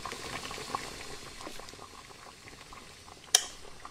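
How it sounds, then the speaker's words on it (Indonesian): Noodles boil in a pot in a video game, giving a faint, steady bubbling with soft patter and one sharp click near the end. "di sini kita coba rebus lagi mie-nya"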